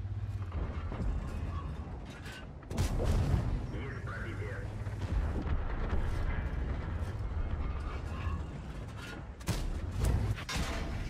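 Artillery fire in World of Tanks, with a T110E5 and T57 in the battle: deep booming shots land a few times against constant rumbling battle noise, with a voice talking over it.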